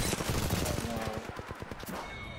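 Rapid gunfire rattles in Apex Legends, with dense bursts of shots stacked over a loud, busy game mix. A quick volley thins out toward the end, with no clear speech over it.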